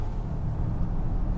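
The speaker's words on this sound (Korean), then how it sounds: "네, 엔진 소리가 좀 들리죠." A Volvo B6 2.0-litre turbo engine in an S90 or XC90 runs with a steady, low, muffled hum, heard from inside at an even level.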